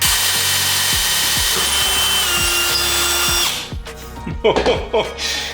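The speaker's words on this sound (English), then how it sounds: "You should not buy this resin to drill holes in it." A power drill boring a hole into an Anycubic Eco resin 3D print, loud continuous whine with rhythmic pulses, then abrupt cracking and rattling as the resin bursts into pieces.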